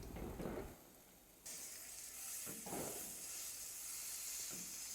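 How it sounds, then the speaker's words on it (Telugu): A chicken patty fries in butter in a pan with a steady close hiss and sizzle, with a few brief louder bursts when it is pressed or flipped. "చికెన్ ప్యాటీని కూడా ఇలా బటర్లో మంచిగా ప్రెస్ చేస్తూ ఫ్లిప్ చేస్తూ ఫ్రై చేస్తే చికెన్ అనేది మంచిగా ఫ్రై అవుతుంది"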